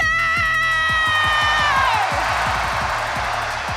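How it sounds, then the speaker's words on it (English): A large arena crowd at a Fortnite FNCS Pro-Am event roars and cheers loudly and continuously, with a rising shout fading into a sustained din under a pulsing beat. "you already heard this crowd roar"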